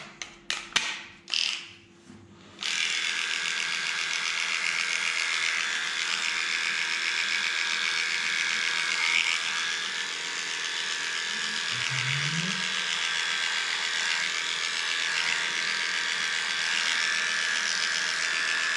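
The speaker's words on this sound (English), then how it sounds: "Guys, shaving a pug can be a difficult job. Even though you're doing everything with a clipper" An electric clipper shaves a pug, starting with a few handling knocks before a steady, close, buzzing hum switches on and runs evenly to the end.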